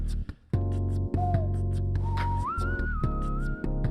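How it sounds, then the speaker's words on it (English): Loud, close whistling with a bright, wavering pitch that slides upward and holds, over a dense low hum. "that's super loud whistling into the mic"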